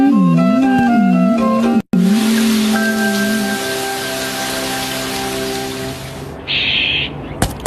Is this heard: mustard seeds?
no